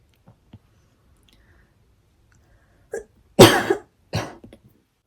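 Someone coughs close to the mic in an otherwise silent room, a sudden harsh burst followed by a second, shorter one and a small trailing catch, with no talk over it.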